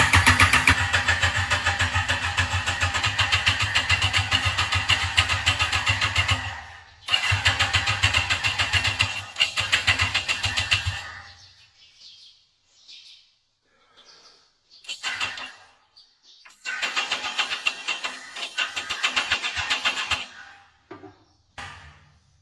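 Kawasaki ZX-14R 1400cc motorcycle engine, salvaged from a scrapyard, cranking without catching: two long bursts of loud starter grinding separated by a short gap, then quiet clicks and fiddling before a third cranking attempt.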